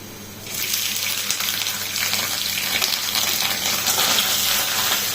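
Boiled beef added to a hot frying pan for beef chow mein, a sudden burst into a loud, steady hissing sizzle that carries on without talk.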